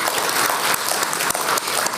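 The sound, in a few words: audience applause for graduating class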